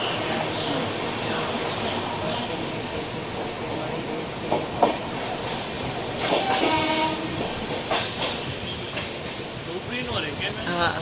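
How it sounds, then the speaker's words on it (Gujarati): A passenger train rolls past a station near a standing locomotive, with a steady rumble and clickety-clack of wheels, a brief horn blast, and voices speaking over it. "જો આ સ્ટેશને ઊભી ન રહી. જો બાજુમાં રેલગાડીનું એન્જિન છે."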